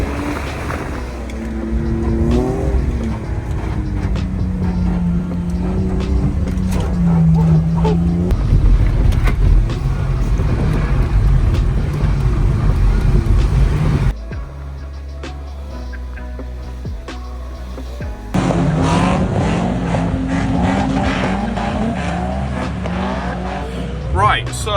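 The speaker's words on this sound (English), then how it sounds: "I think the boys are about to go out in Jan's MX-5 now" Mazda MX-5 out on track at a drift day, engine droning and revving loud and close throughout with pitch sweeps, cutting to a quieter stretch before resuming; some talk mixed in.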